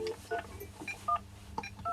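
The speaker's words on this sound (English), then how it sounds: "Old school phone." Touch-tone telephone dialing on an old-school phone, a quick sequence of about eight short dual-tone beeps at an irregular pace, moderately loud over faint background noise.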